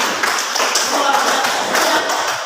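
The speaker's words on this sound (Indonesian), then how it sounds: "tepuk tangan untuk kelompoknya nih" Classroom applause for a student group during a lesson, a brief burst of many hands clapping close by, fairly loud and steady.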